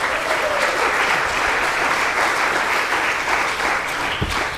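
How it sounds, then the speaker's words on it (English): A church congregation at a Sunday worship service applauds steadily for the cake bakers, a dense, even wash of clapping from many hands that holds for several seconds without a break. "Let's give them a round of applause."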